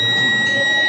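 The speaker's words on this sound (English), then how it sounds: "When the fire goes, the buzzer will start to beep" A fire alarm buzzer on a school exhibition model gives a steady, loud, high electronic tone that lasts the whole second over a noisy room.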